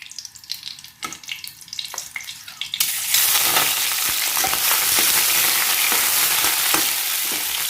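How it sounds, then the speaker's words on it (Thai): After a few quiet seconds of clinking, a loud, continuous sizzle bursts up as shrimp hit hot garlic oil in a pan, then keeps frying steadily. "เราใส่น้ำมันกระเทียมเจียวของเราที่เราทำไว้แล้วนะคะ และเราใส่กุ้งลงไปเลยค่ะ"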